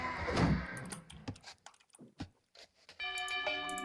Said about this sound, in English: Town bell rung.